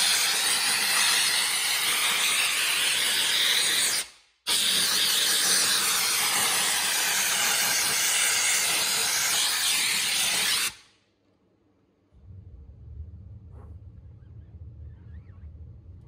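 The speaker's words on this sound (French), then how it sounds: "on va tester la vapeur directement sur une jante, la jante avant du véhicule" A powerful steam generator blasting steam onto the front wheel rim of a car, a loud close hiss in two long bursts with a brief break, then stopping into a quiet low hum.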